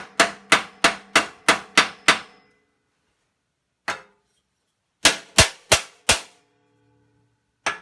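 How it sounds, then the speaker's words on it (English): An 8-ounce ball peen hammer peens rivets on a snow shovel's wear strip: a quick run of seven sharp metallic blows, one lone strike, then four more and a final tap, loud and close. "8-ounce ball peen hammer."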